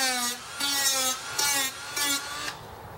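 An angle grinder working on a part during generator set assembly buzzes in four separate bursts with short pauses between them, fairly faint and close, with no talking.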